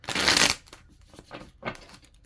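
Tarot cards are shuffled up close: one loud riffling burst at the start, then softer card slides and taps follow at a distance during a quiet reading.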